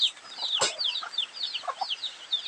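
Farm chickens cluck repeatedly in short, bright bursts, several birds close by with a louder squawk near the start, no talking.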